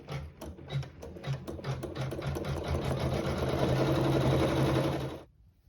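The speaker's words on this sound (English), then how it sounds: "I've placed a thread that matches fabric 3 in the needle, and it will sew the satin stitch" An embroidery sewing machine sews a satin stitch on a quilt patch, its needle hammering in a fast, even mechanical rhythm with a motor hum underneath, running steadily for about five seconds before stopping abruptly.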